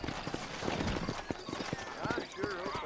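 Horse hooves clip-clop in a rapid, uneven rhythm in the Western video game Red Dead Redemption, set in a frontier town, with a whinny-like call near the end and a voice talking over the steps.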